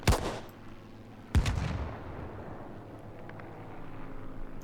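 A bazooka rocket is fired twice in the WWII shooter Spearhead 1944, each launch a loud sharp blast. A rumbling roar trails off after each one, and a low steady background hum continues beneath.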